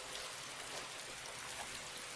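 A heavy downpour in the game DayZ hisses as a dense, even wash of rain, faint and steady with no voices over it.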